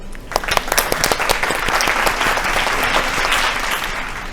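A game show studio audience breaks into loud, sustained clapping, close and full, holding steady for several seconds with no talking over it.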